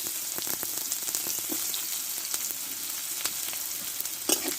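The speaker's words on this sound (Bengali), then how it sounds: "পেঁয়াজটা একটু ভালো করে ভেজে দেবো" Onion cut into thick pieces frying in hot oil with whole cumin, black cumin and chillies for a rohu fish curry with potatoes, a steady close sizzle with a few sharper crackles and stirring clicks, no talk.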